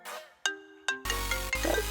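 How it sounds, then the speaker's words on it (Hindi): A mobile phone ringtone plays a couple of clear melodic chimes, then swells into a louder, fuller ringing that carries on alone without speech. "इसका फोन है।"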